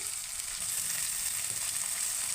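Ginger, garlic and tomato fry on a full flame, giving a steady, dense sizzle that stays loud and even for the whole stretch with no talking.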